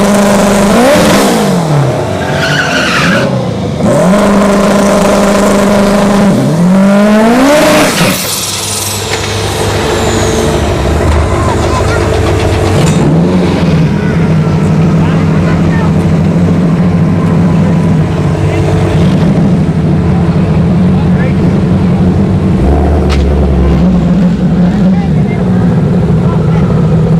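Drag race cars, a Turbo Civic and a Shelby GT500, rev and launch at a dragstrip test-and-tune session, with loud repeated rising engine sweeps, steady roaring passes and lingering engine noise through almost half a minute.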